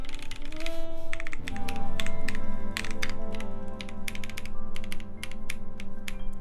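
Rapid clacky keystrokes on a Duck Octagon v3 mechanical keyboard with Mill-Max socketed switches, a dense continuous stream of close, crisp clicks over a steady low background hum.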